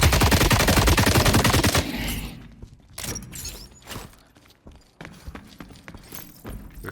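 The Brute gun in The Cycle: Frontier fires in a rapid, loud burst of closely spaced shots for about two seconds, followed by scattered single shots and thuds, close and without talk.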